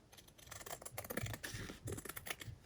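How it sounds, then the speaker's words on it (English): Scissors snip through a paper recipe card template close up, giving a steady run of quiet, crisp cuts with no talk. "I will cut here"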